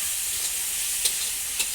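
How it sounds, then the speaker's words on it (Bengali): Cauliflower frying in a pan for egg chicken chowmein gives a steady high hiss of sizzling oil, with two soft utensil clicks near the end and no talk. "ফুলকপিটাকে ভালো করে লাল লাল করে ভেজে নিতে হবে।"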